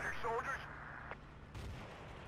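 Explosions and gunfire rattle through a Battlefield 2 Conquest 8v8 league match, with a sharp blast and scattered distant shots sounding fairly faint amid game noise.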